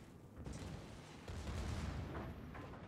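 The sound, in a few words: naval gun shot in a warship video game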